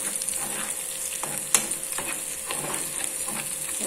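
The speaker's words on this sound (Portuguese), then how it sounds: "Já que refogando aqui o tempero, o macarrão." Seasoning and pasta sauté in a pan at home, a continuous bright sizzle with soft stirring scrapes and one sharp utensil knock midway, close and unvoiced.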